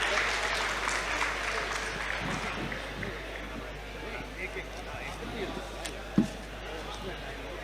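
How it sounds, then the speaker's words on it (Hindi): Audience applause at a poetry gathering, moderate clapping spread across the room with voices mixed in and a single sharp knock near the end. "जोरदार तालियां बजा दीजिए।"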